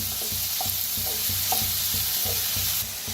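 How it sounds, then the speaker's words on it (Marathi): Onion sizzles in a hot pan while a spoon stirs it with regular scraping strokes, the steady frying hiss loud and close under the rhythmic clatter. "कांदा चांगला भाजतला आहे"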